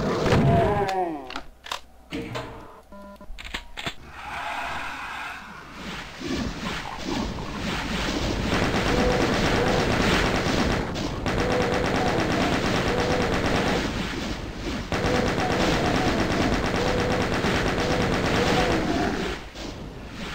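Sustained bursts of video game gunfire aimed at monsters in a custom map run for most of the span as a dense, loud rattle over a rumbling ambient backdrop, opening with a few scattered shots.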